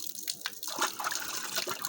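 Water pouring and splashing into a rooftop water tank on a house terrace, a steady bright gush with small drips and trickles, close and continuous.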